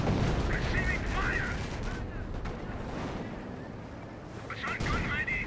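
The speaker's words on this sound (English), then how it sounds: "Not sure what artillery barrage that was" Artillery barrage in the World War II strategy game Company of Heroes, with heavy dense rumbling blasts and crackling impacts filling the clip, a burst at the start and another near the end, over steady battle noise and some talk.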